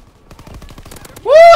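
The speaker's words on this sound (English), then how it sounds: "That's a grenade." Gunfire and an explosion crackle through a Call of Duty WWII match as a dense burst of impacts, then a sudden loud, sustained roar with a bright tonal whine swells over the final moments.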